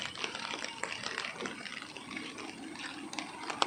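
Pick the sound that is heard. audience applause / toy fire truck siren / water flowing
water flowing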